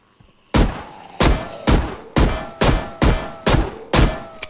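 Seven heavy, evenly spaced gunshots ring out in a zombie shooter game, each a sharp loud crack with a short decaying tail, fired at a helmeted zombie after a brief quiet start.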